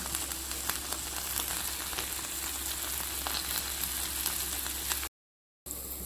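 Prawns masala frying in a pan, a steady broadband sizzle and crackle running loud and close throughout, briefly cutting out near the end before resuming.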